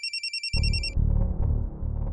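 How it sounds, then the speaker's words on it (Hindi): A phone rings with a rapid electronic ringtone, several short bursts, then cuts off as a voice begins speaking close by. "कमिश्नर साहब का फोन"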